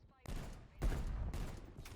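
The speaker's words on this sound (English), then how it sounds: "3 hand cannon shots and I couldn't hit him" Hand cannon fire in the Call of Duty: Black Ops Cold War shooter, with three heavy booming shots spaced about half a second apart, each trailing into a dense rumble, played loud and close.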